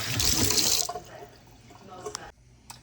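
Tap water runs over frozen spinach in a kitchen sink, a steady broadband rush for most of a second before easing to quieter trickles and a few small splashes.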